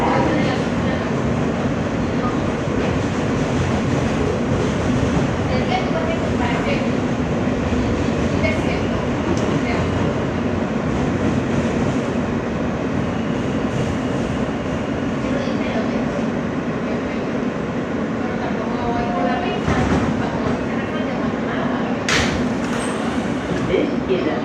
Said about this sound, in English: This is a Middle Village Metropolitan Avenue bound and local train.